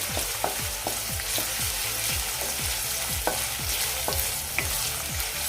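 Finely chopped medium onion fries over a medium flame in a pan, a soft steady sizzle broken by a regular series of scraping strokes as it is stirred, with no voices.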